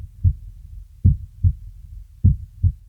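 Processed heartbeat sound effect made for post-production sound design, heard up close as deep, muffled lub-dub thumps in a steady repeating pair pattern, loud and isolated against silence.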